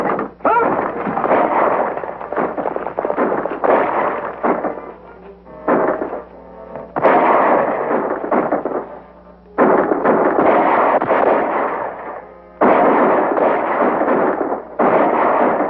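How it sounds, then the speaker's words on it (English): Gunfire in a 1941 western set around Deadwood: loud, dense volleys of shots and bursts crackle almost continuously, broken by brief lulls, with the shooting pressed close and heavy throughout. "Whoever's doing that shooting is helping us."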